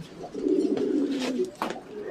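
Low, rolling coos of fancy pigeons murmur steadily up close on a pigeon and poultry farm, a soft continuous burble with a couple of brief rustling bursts over it.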